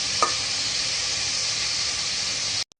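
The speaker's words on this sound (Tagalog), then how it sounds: "Kasi igigisa ko muna siya." Liver sautéing in a pan, a loud, steady close sizzle with a brief stir near the start, cutting off abruptly at the end.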